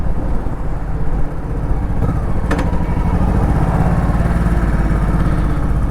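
A 2007 Honda Shadow Spirit VT1100C motorcycle engine runs steadily and close, a continuous low throbbing rumble with a brief mechanical click partway through, riding on a street with no speech.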